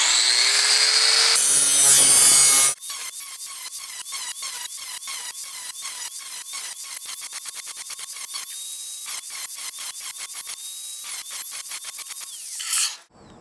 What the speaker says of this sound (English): Got the grinding wheel on. Not the cutting wheel, the grinding wheel.